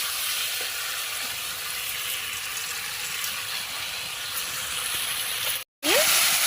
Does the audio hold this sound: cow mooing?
no